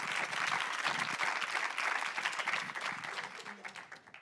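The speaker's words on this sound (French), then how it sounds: "On peut l'applaudir, Raphaël." A room full of people applauds steadily, the clapping dense and sustained before tapering off at the end.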